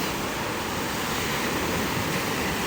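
Sea waves rolling onto an Odesa beach, a loud, continuous roar of surf with a wind-like hiss and no break throughout.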